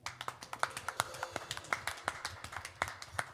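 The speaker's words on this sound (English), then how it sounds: "Can you give another clap offerings for the Lord this morning?" Clapping from a church congregation during a morning service offering, sparse and uneven individual claps with sharp separate hits scattered across a few seconds, fairly close, with no talk.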